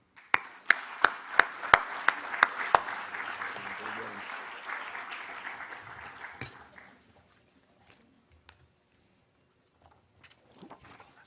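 A panel discussion on advanced nuclear energy opens with a hall audience clapping: sharp individual claps up front swell into steady applause that fades away after about seven seconds, leaving quiet room noise.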